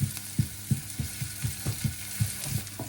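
Chopped onion cooking in a pan for a vegan Galician chickpea stew, giving a soft sizzle with regular stirring scrapes every few tenths of a second, close and fairly quiet with no voices.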